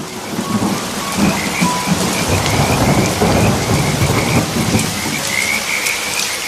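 Heavy rain pours steadily in a loud, dense wash while thunder rumbles low underneath, with faint frog calls in the background and no voices.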